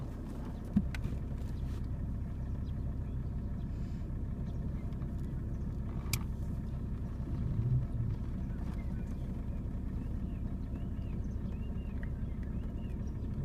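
Car engine running steadily while a learner driver moves off, a low continuous rumble with a few faint clicks and knocks over it, no clear speech.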